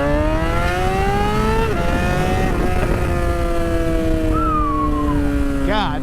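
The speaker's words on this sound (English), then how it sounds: "That exhaust is so brutal." A loud, brutal car exhaust revs close by, its pitch rising and holding, dipping briefly, then climbing again before a sharp burst of crackling near the end.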